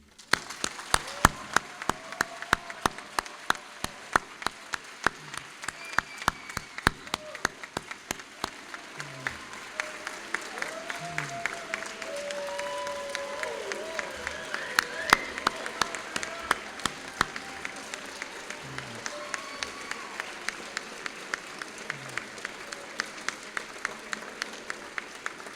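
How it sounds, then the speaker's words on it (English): A large audience applauds a graduating dental medicine class at a ceremony, steady sustained clapping filling the hall throughout, with faint voices and cheers rising underneath. "please give a round of applause for them"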